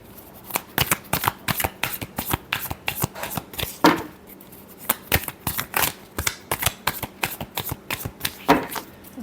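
A deck of tarot cards is shuffled by hand nearby, producing rapid rhythmic flicks and slaps in repeated bursts, with a few sharper riffles standing out.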